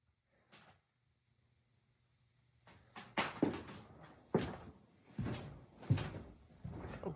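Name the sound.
cupboard doors opening on their own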